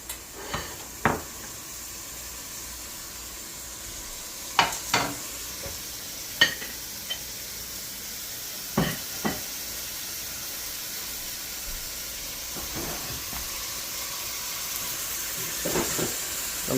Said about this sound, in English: we're gonna let that simmer in medium high